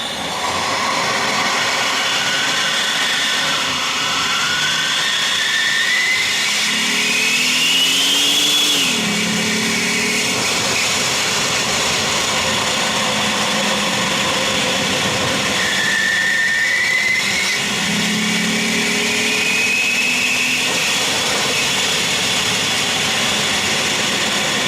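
A supercharged 2021 Jeep Gladiator Mojave drives, heard from outside the vehicle: a loud continuous engine and road roar with rising supercharger whines that sweep up twice as it accelerates, then settle between pulls.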